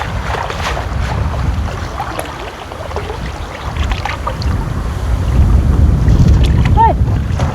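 Strong wind buffets a microphone aboard a small fishing boat on open water, a loud, gusty roar that swells toward the end, with faint voices underneath.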